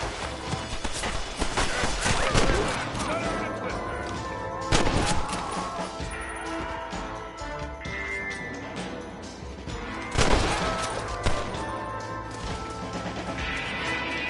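Gunshots ring out during a shootout in Red Dead Redemption, with several sharp loud cracks spaced apart over a busy background of hoofbeats, clatter and game ambience.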